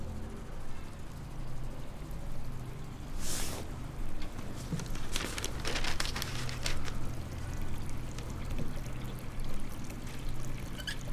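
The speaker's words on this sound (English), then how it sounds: "I'm gonna go and wash up." Running water from a tap while someone washes up, heard as a soft, continuous trickle and pour with a brief brighter splash, fairly faint and alone.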